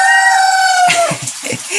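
A rooster crows loudly in one long drawn-out call, followed by a few short clucks from chickens nearby.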